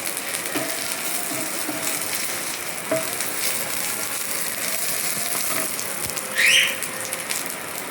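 Chillies frying in a pan of hot oil give off a constant close crackling sizzle, with a few light clicks and one brief higher squeak near the end.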